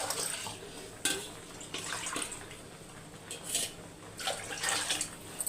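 Water pours and splashes into a metal cooking pot holding rice in a few bursts, with light clinks of the pot between pours, close by.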